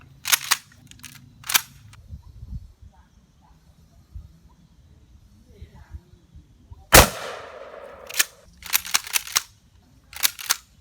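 A Mossberg 590 shotgun with a 20-inch barrel fires Sellier & Bellot 00 buck shells at about ten metres, giving sharp loud blasts, one especially heavy report midway followed by clustered shots, with faint talk and handling noise between.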